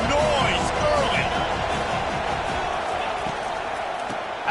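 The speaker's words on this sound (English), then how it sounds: "This crowd bringing the energy and noise early." Football stadium crowd roars in a loud continuous wash of cheering and noise, with a commentator talking over it throughout.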